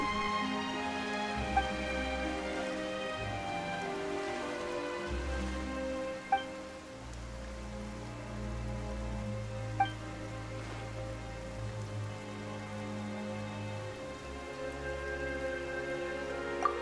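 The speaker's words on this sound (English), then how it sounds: "Why is it raining all of a sudden?" Rain falling in the video game Genshin Impact, a steady soft patter and hiss of drops over sustained musical tones, with a few faint isolated clicks scattered through.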